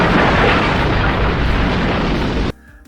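A warehouse explodes in a James Bond film in a huge, roaring, sustained blast of dense rumble and debris that cuts off abruptly into quieter music.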